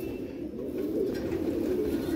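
Domestic pigeons coo in a soft, steady, low murmur that continues throughout, fairly quiet and with no voices.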